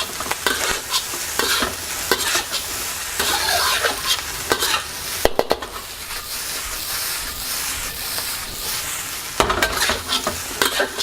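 Special fried rice with spring onion tossed in a hot pan, loud sizzling and hissing with repeated scraping and clanking of the utensil, close and without talking.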